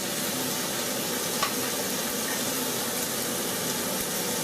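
Tomatoes being stirred into a frying pan of chicken and prawn paella, a constant dense sizzle close by with faint stirring movements and one small clink.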